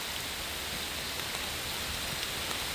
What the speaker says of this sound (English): this is just to illustrate what you can get with lake effect precipitation